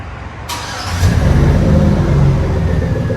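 A Chevy Avalanche's 5.3L V8 with aftermarket exhaust cranks and fires up about half a second in, then settles into a loud, steady, deep rumbling idle close by.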